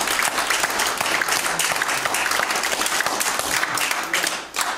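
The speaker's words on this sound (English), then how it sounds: "Give the Lord a hand clap." Church congregation clapping hands in praise during a worship service, a dense, steady wash of applause filling the room for several seconds before briefly dipping near the end.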